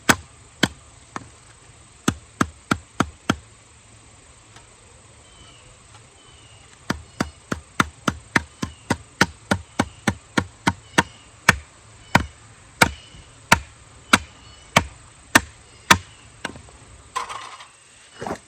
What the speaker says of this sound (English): just kind of hammer these together a little.